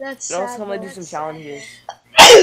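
A single loud sneeze bursts out at the very end, right after someone finishes talking over Fortnite gameplay.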